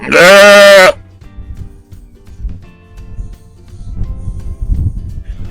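A sheep on a homestead gives one loud, close bleat, followed by faint low shuffling and rustling with no talking.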